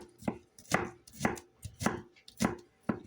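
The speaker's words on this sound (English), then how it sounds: "This one we have to chop pretty fine" A knife chops crushed garlic finely on a cutting board, six crisp, evenly spaced strikes about half a second apart, close and distinct against near silence.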